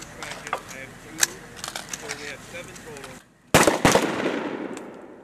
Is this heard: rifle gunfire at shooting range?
yes